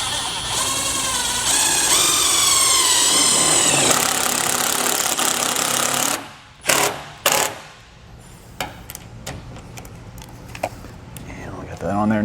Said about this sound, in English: I'm going to put my self-tapper through, take my drill